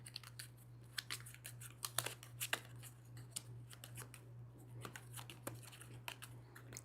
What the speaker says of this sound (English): and then shuffle these up